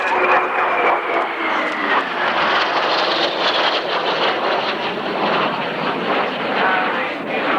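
An aircraft flying a knife-edge pass at a 1991 airshow, its loud, continuous engine roar sweeping past with gliding tones that shift in pitch and steady wind buffeting throughout.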